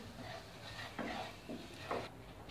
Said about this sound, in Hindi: इसको हम अच्छे से मिक्स कर देंगे।